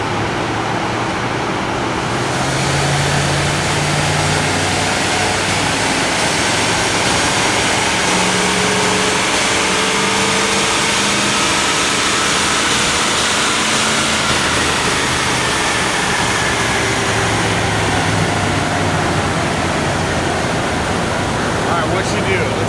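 An L5P Duramax diesel truck with ram air intake and large exhaust roars steadily at full power on a dyno, a loud, sustained rumble under a fan blowing at full speed.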